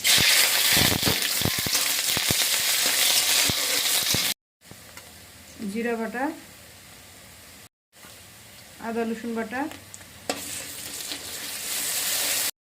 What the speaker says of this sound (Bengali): পেঁয়াজটা আমার ভাজা হয়ে গেছে